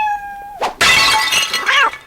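A cat gives a loud, close, drawn-out yowl that breaks off into a harsh crash like shattering glass, followed by a second, rising yowl near the end.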